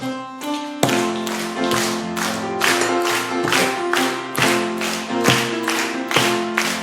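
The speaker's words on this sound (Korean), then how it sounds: "박수 치면서 심차게 합니다." A church congregation claps in a firm, steady beat, about two claps per second, while singing the hymn 'Peace Like a River'. The sharp claps sit loud and close over the sustained sung melody.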